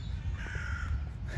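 Crows cawing in a wooded city park while chasing squirrels, a harsh drawn-out call over steady outdoor background noise.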